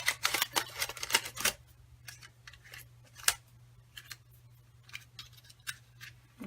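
Paper punch snapping through cardstock while making Stampin' Up Daisy Delight card projects, giving a rapid burst of crisp clicks and crunches followed by scattered single clicks, close and fairly quiet over a steady low hum.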